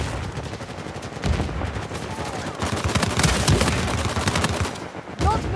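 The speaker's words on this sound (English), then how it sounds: "I feel like I'm freaking using so many bullets." Gunfire from Uncharted 4 multiplayer comes as loud, rapid bursts of shots in quick succession, pausing briefly before resuming in dense clusters.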